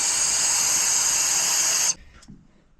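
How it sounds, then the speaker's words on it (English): Compressed air hisses hard into a carburetor's mixture screw passage in a steady, loud blast for about two seconds, then cuts off abruptly, leaving faint workshop quiet. "blow air right in here, right where the you know, the item mixture screw goes"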